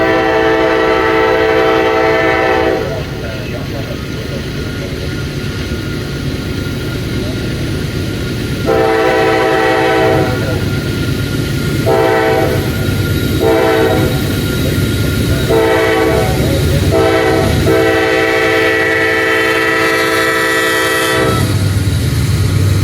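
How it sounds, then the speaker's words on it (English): A freight train approaches in the railside air around Birmingham, Alabama, its loud horn blowing in several long and short blasts over a steady rumble of rolling cars, close and dominant throughout. "is that another train I hear?"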